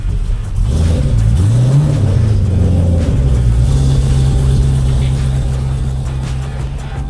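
A 1950 Jeepster's engine rumbles steadily and close, with a low rising rev as it pulls forward toward a trailer, then settles into an even drone that slowly fades.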